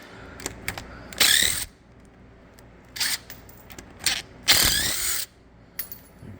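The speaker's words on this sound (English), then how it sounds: "loosen all 4 of the bolts on the U-joints up, and then out comes the drive shaft" A ratchet loosens the four U-joint bolts on a muscle car's drive shaft in short, sharp clicking bursts with irregular pauses, close and fairly loud, with no talk.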